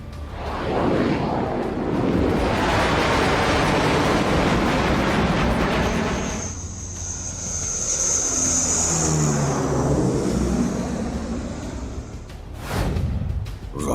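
Indian Air Force fighter jets, Sukhoi, Rafale and Jaguar, roar low over the Ganga Expressway in a loud, sustained rumbling blast. The noise swells, shifts pitch as one passes, then another surge follows near the end.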